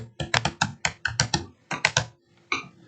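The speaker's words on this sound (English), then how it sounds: "In search bar, type Data Scraper." Crisp, rapid keystrokes on a computer keyboard type a short phrase into a search bar, about a dozen close, clear clicks in quick bursts, ending with a final separate key press.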